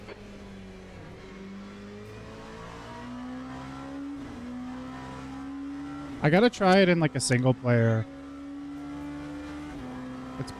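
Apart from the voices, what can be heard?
race car engine revving in Le Mans Ultimate video game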